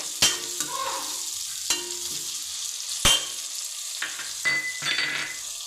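Tomato masala for capsicum rice fries in a pan with a steady soft sizzle, broken by several sharp clacks as it is stirred.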